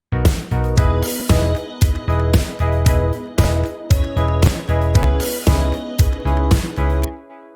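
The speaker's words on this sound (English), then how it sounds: "Making it a lot brighter and a lot wider, and then with a chorus in the mix." A bright, wide synth pluck treated with EQ and Juno-style chorus plays a rhythmic, repeating pattern of close, loud plucked chords in a pop production, then rings out into a short sustained tail with no one talking.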